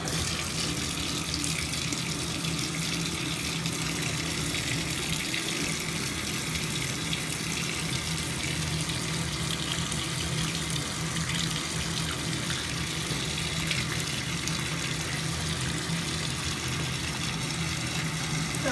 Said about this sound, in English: I'm gonna go ahead and fill up the bucket with hot water